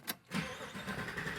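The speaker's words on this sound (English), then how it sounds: "that's definitely a different sound than a regular Trans Am." A Bandit Trans Am tribute car with an LT1 engine revs and runs with a deep, throaty rumble, close by, after a brief sharp sound at the start.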